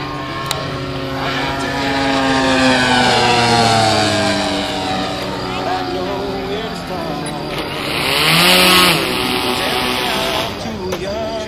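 Two-stroke 3W 85 engine of a self-built R/C Pilatus PC-9M model plane in flight, a loud steady buzzing drone whose pitch rises and falls as it passes, swelling briefly near the end.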